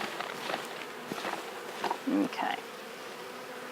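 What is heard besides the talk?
swarm of honey bees being shaken into hive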